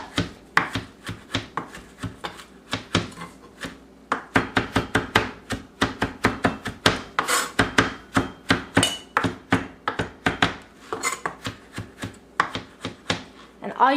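A knife mincing fresh cilantro on a cutting board, with quick, steady tapping chops that come in rapid bursts with short pauses, close and crisp, and no talking.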